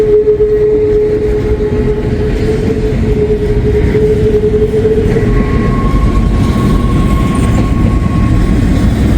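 A freight train hauling containers rolls past close by, loud continuous wheel rumble and rattling cars with a thin squeal ringing from the wheels, no voices.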